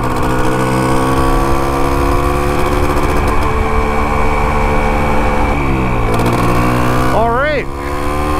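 A restored Can-Am motorcycle engine runs steadily at a close, loud idle with a constant droning hum, and a voice briefly speaks near the end.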